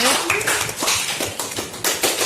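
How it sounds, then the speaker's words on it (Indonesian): Classmates in a school classroom clap for a fellow student, a dense burst of hand claps running steadily for a couple of seconds, close and fairly loud. "tepuk tangan dong buat temennya gitu dong"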